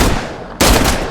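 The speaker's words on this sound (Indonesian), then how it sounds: "dia pun curiga ketika mendengar suara tembakan di dalam pabrik" Gunfire inside a factory in a Korean gangster film, a sudden loud burst of shots breaking in halfway through after a quieter dense stretch, continuing with rough rattling intensity to the end.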